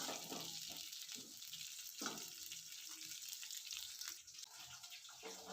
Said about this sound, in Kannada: ಸೊ ಅದಕ್ಕೆ ನಾನು ಚೆನ್ನಾಗಿ ಫ್ರೈ ಮಾಡ್ಕೊಳ್ತಾ ಇದ್ದೀನಿ